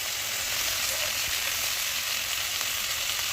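Dried shrimp and potatoes frying in a pan with dried chillies, a steady dense sizzle holding at an even level throughout, close and without talk.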